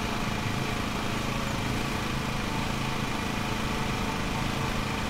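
Engine of a ride-on lawn mower in Lawn Mowing Simulator, a steady, continuous mid-pitched drone idling or running at even revs throughout, fairly loud with no voices.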